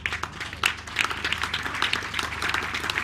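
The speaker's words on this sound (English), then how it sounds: "give Joe Pedro a very big hand of applause" A conference audience applauds steadily, many hands clapping in a dense, even wash of sound that fills the hall without a break.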